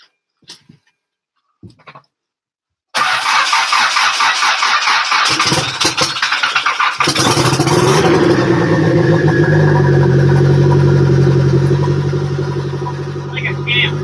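After a few faint clicks and a silent pause, a vehicle engine that has just had a leak repaired cranks loudly and catches, then settles into a steady, close idle that stays loud before easing slightly at the end.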